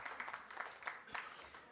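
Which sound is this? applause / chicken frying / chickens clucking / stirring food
applause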